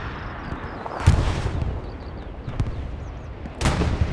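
Katyusha rocket artillery barrage in a Kharkov battle video game match: a few sharp, heavy booming impacts at moderate distance, spaced a couple of seconds apart over a constant low battlefield rumble, with no talk.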